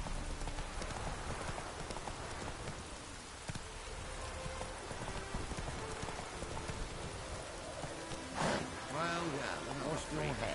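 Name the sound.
horse hooves clip-clopping in the rain, from a video game (The Witcher)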